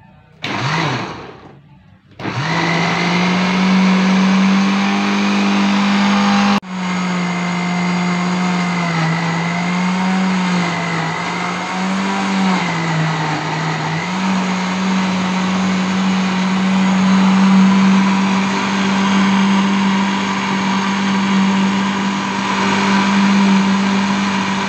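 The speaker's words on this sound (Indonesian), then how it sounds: "Oke, kalau sudah kita blender ya." A kitchen blender whirs steadily for about twenty seconds, blending Rhoeo discolor leaves with 100 ml of water, with a short start-and-stop near the beginning and a loud, continuous motor hum throughout.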